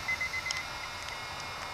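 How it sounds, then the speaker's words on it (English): An RC transmitter for an Eachine E130 helicopter gives its five-minute timer warning: a quick run of about five short, high, evenly spaced beeps over steady background hiss, then quiet. "there's my second 5-minute warning going off"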